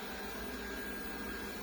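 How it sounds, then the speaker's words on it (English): A DeenKee DK700 robot vacuum runs with a steady, even motor whir and hiss, close and continuous throughout, with no talking. "turn off the vacuum."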